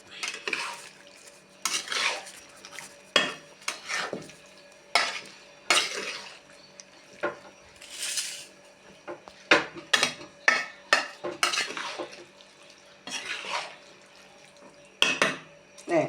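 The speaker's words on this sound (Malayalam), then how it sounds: "ഇനി നല്ലോണം ഇളക്കി മിക്സ് ആക്കി ഇതേപോലെ കിട്ടുന്നുണ്ട് അച്ചാർ." Homemade pickle being stirred and mixed with pickle powder, a spoon scraping and clinking against the vessel in repeated irregular bursts, close and fairly loud.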